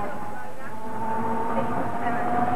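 A tram rumbles steadily along railway tracks toward Fleetwood, a continuous low drone with faint tonal whine, heard from inside.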